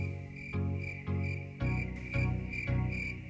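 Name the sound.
crickets chirping sound effect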